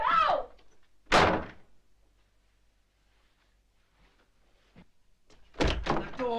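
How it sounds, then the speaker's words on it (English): A single heavy door slams shut indoors with a loud, sharp thud, followed by a long near-silence and a few faint knocks before a voice begins. "The door."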